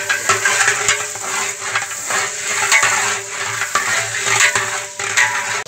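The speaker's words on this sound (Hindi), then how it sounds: "अब ये देखिए ये सामने डालें इसमें प्याज भी" Onions are added to a large daig pot of beef chana pulao cooking over a wood fire, giving a steady, dense crackling sizzle with scraping and clinking, loud and continuous throughout.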